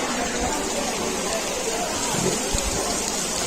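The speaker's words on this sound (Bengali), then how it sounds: "অনেক জোরে বৃষ্টি নামছে, সবাই ভিতরে আসছে।" Heavy rain pours down steadily outdoors at a mosque and madrasa grounds, a dense continuous wash with a few louder splashes.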